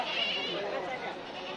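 Goats bleat at a busy Friday-morning sheep and goat market in Mudhol, Karnataka, a continuous wavering cry close by over the crowd's background din.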